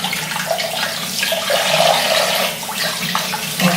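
Hands are rinsed under a running tap in a sink, a steady close rush of water with shifting splashy texture as the hands move through the stream.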